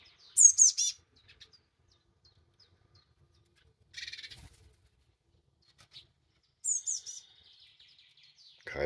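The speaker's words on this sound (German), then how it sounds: "Muss keine Angst haben vor den Spatzen." Sparrows chirping in short bright bursts of high tweets separated by long quiet gaps, three clusters of calls fairly close against near silence.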